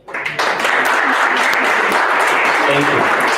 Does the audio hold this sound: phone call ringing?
no